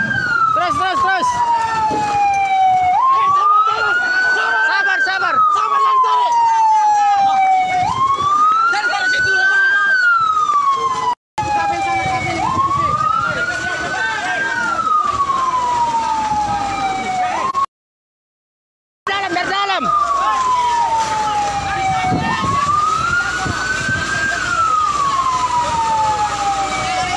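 Fire engine sirens wail continuously at a building fire in Luwuk, a rising and falling tone repeating loudly and close over engine rumble, with brief dropouts.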